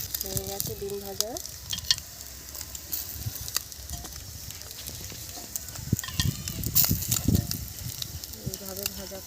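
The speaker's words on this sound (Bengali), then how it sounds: "হয়ে গেছে ডিম ভাজা।" Eggs frying in a pan for Bengali-style egg korma, a steady sizzle with occasional scraping and stirring, while a voice talks over the cooking at several points.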